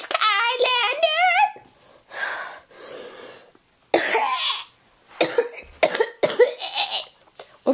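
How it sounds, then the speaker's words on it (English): A short tonal vocal sound, then a series of harsh coughs in separate bursts, some in quick succession, loud and close. "What kind of final boss coughs in the middle of their battle?"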